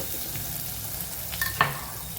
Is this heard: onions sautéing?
yes